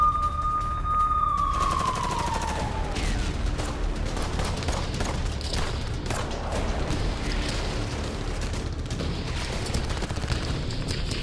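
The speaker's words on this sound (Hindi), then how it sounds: "इजरायली सैनिकों पर ताबड़तोड़ फायरिंग करते हुए दिख रहे हैं" Soldiers fire rapidly in Hamas–IDF fighting near the Gaza border: dense, continuous bursts of gunfire crackle without a break, opening with a brief falling whistle-like tone.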